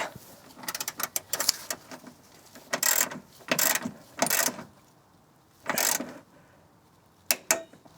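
Short bursts of ratcheting clicks come from a torque wrench tightening screws on a GTI go-kart chassis, heard up close in quick irregular clusters separated by pauses.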